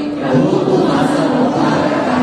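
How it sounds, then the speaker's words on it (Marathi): Loud applause from the congregation at a Monday prayer meeting, a steady dense wash of many hands clapping with crowd noise, sustained for about two seconds. "जोरदार टाळ्या"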